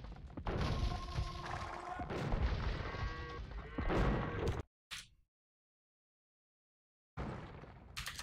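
Hand cannoneers fire their cannons in a strategy video game, a dense, loud barrage of overlapping booms and crashes that cuts off abruptly into silence before the noise returns.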